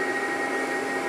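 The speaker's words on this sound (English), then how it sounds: "You can hear the fan running in here." Steady whirring hum of the cooling fan inside a PCP air compressor pump, constant and moderately loud with no break, no voices over it.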